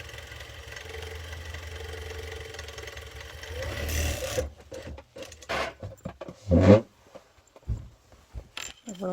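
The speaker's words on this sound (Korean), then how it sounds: "이제 이 주머니끼리 연결한 시접 오버럭으로 처리해가지고" An overlock serger finishes the joined seam allowance of a trouser pocket with a steady, close mechanical hum for several seconds, then stops. Handling clatter and a voice follow.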